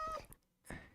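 A cat meows twice in Minecraft, two short faint mews separated by a brief pause.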